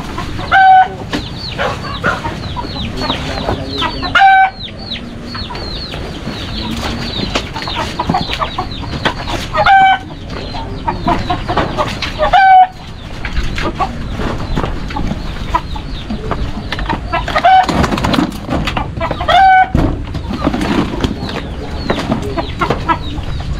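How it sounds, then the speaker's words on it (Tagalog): Chickens in a freshly opened coop cluck loudly and continuously close by, with repeated sharp calls and crowing cutting through the busy flock noise. "binuksan na po yung manukan"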